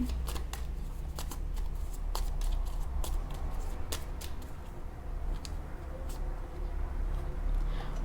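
Tarot cards being shuffled in a quiet room, giving a steady papery riffle with scattered crisp flicks and snaps throughout, close and fairly soft, with no talking.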